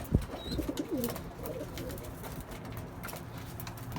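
Tumbler pigeons coo in a coop with young birds, a few soft low coos near the start over a steady background hum, then continued faint ambient noise.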